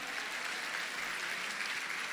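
Congregation applauding during a Portuguese-language church sermon, a steady wash of many hands clapping at once, dense and even, with no voices over it.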